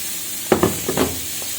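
Onions frying for beresta give a low background sizzle, with a few quick stirring knocks and scrapes up close.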